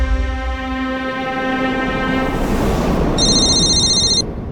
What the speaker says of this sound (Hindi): स्नेहा, वो अनिरुद्ध का फोन आया